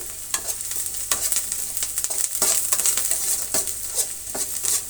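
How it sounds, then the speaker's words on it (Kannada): Curry leaves hit hot frying oil for a rice bath dish, a steady, close crackling sizzle broken by repeated scraping stirs throughout. "ಈಗ ಸ್ವಲ್ಪ ಕರಿಬೇವಿನ ಸೊಪ್ಪನ್ನು ಸೇರಿಸ್ತಾ ಇದ್ದೀನಿ"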